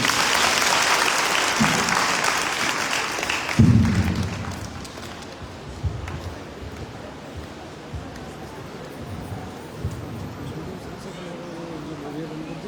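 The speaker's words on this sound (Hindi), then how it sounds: "जोरदार तालियां बजाओ इंग्लिश की।" Applause from the audience at a Bhagavat Katha gathering, loud clapping at first that fades over several seconds into a murmuring crowd with occasional thumps and rustling.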